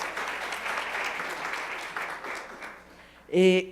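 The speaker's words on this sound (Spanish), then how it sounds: "Un aplauso" Audience applause at the close of a medical lecture on vitamin D metabolism in kidney disease patients, a steady dense patter of many hands lasting a few seconds before a voice speaks briefly at the end.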